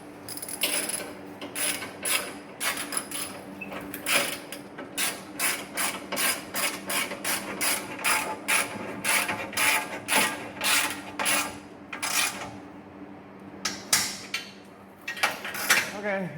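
A ratchet tightens skid plate bolts on a Subaru Outback Wilderness at the rear differential, giving long runs of fast, close metallic clicking in repeated bursts with brief pauses between strokes.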